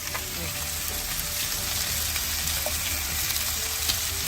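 Garlic frying in a pan with the excess oil partly drained, for malasugi fish alla pizzaiola: a constant, close hiss of sizzling runs throughout, with faint crackles and no clear talking.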